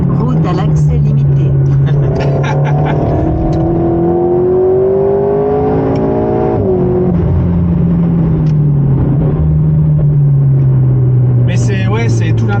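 Alpine A110S sports car engine while driving on a road, a loud steady drone rising and falling in pitch with acceleration and gear changes, heard from inside under continuous talking.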